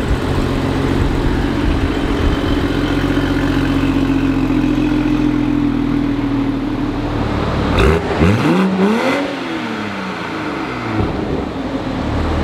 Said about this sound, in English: she sounds good, Alex. Sounds nice.